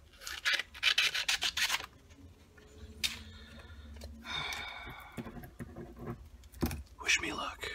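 Fine abrasive sanding on the frets of an Ibanez GSR200 bass guitar at a very high grit, giving bursts of close rhythmic rasping strokes with pauses and some handling noise between them.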